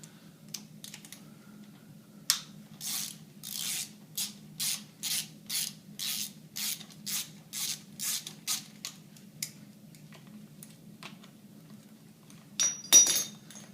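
A hand socket wrench ratchets on a Mitsubishi 3000GT engine during cylinder head removal, a steady run of about a dozen crisp clicking pulls close by, with a few lighter clinks at the start and end and no talking.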